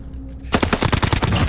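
Rapid automatic gunfire from the video game Warzone bursts in after a half-second lull, a loud, dense stream of shots rattling on steadily to the end.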